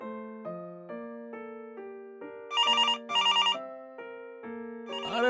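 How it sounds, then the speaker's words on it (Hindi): A landline telephone rings loudly and alone, a repeating electronic melodic trill with bright bell-like bursts in the middle, no voices over it. "और ये मोबाइल की जगह लैंडलाइन खनखना रहा है।"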